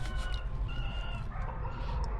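Backyard chickens cluck, with a rooster crowing now and then, over a steady low rumble of background noise.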